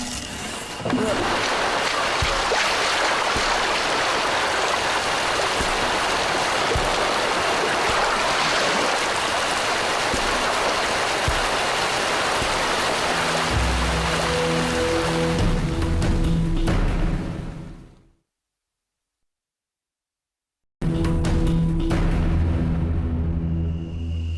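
A river in a Costa Rican rainforest rushes in a loud, continuous broadband roar, dropping into a brief silence before the flow resumes near the end.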